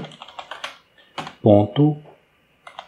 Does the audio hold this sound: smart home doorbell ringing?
no